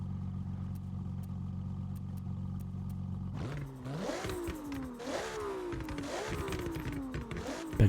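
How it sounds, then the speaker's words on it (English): A tuned Ferrari F80 with a turbo revs in Forza Horizon, a low steady engine drone at first, then rising and falling revs that climb through repeated gear shifts, moderately loud, with no talk. "Better turbo noises."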